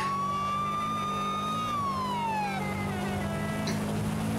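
A police siren in the Forza racing game wails loudly and steadily, then drops in pitch as the vehicle passes and fades, over a constant engine drone with no talking.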